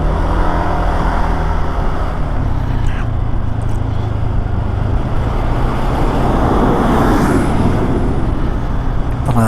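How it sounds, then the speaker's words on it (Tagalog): Dense night road traffic in Metro Manila around San Juan rumbles loud and continuous, with engine drone, tire noise and a passing vehicle whine, heard close from a moving ride. "Traffic pa rin."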